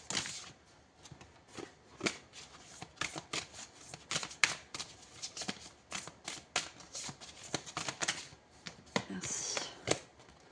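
Tarot cards being shuffled and drawn in a rapid run of crisp, close riffling flicks and snaps, dense and continuous with no talking over them.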